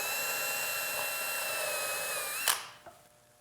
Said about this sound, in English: hold it against the fence and drill the pilot holes into the sled